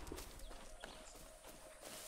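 Horse hooves clip-clop in Far Cry 6, a steady, fairly faint walking rhythm of soft knocks over a low game ambience hum.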